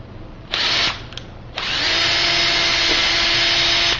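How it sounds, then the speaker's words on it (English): A power drill whirs briefly, pauses, then bores steadily into a wooden board for over two seconds, close and loud, with a faint pitch dip midway. "I'm going to drill just a little bit on this side"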